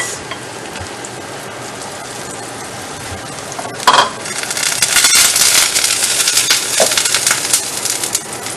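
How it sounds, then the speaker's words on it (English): Spices stirred into a sizzling pan, a steady frying hiss with scraping and crunching from the stirring, growing louder after a sharp knock partway through, no talking. "Stir this for 1 minute."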